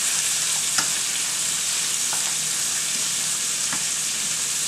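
Shrimp, a full pound, sizzling steadily over a medium flame in a garlic shrimp pan, with a few soft scrapes as they are mixed together; continuous broadband frying hiss, close and even, no voices.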